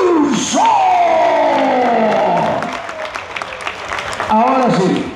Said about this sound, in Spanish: este bello público le va a regalar un fuerte aplauso